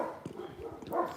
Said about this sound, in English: One dog meets another.